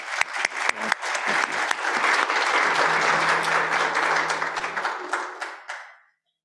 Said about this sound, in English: if you can give him a round of applause